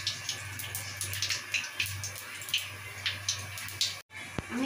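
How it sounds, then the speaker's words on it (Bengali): Nigella seeds are dropped into hot oil for tempering and sizzle with a soft, steady hiss broken by a series of small crackling pops. The sound is close and fairly quiet, with no talk. "বন্ধুরা এখানে তেলটা গরম হয়ে গেছে, তো আমি কালো জিরে নিয়েছি"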